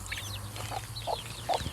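Chicks and hens on a village farm: high thin peeps from chicks repeat over soft, low clucking, close by and continuous.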